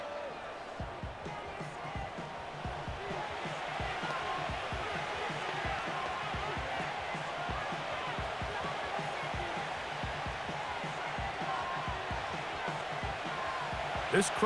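A loud, steady stadium crowd roars in a Madden 25 football game, Dallas Cowboys at New York Giants, building noise before a third-and-inches play, with rhythmic thumping throughout and commentators talking over it.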